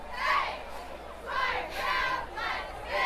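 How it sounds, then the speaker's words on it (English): A crowd at a high school varsity football game at JT Flaherty Field, Littlestown at Delone Catholic, roars and shouts in rising and falling surges, heard from a distance with no clear speech. "Nice crowd here developing at JT Flaherty Field."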